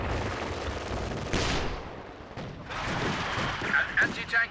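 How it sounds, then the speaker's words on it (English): Anti-tank gun fire in Company of Heroes 2, heard as heavy booming blasts with rumbling decay over a busy battlefield din, a commentator talking over it. "An anti-tank gun has taken the field."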